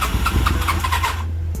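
A Honda CB400 café racer motorcycle's starter motor cranks weakly in a fast, sputtering rhythm that labors for about a second, then cuts out without catching.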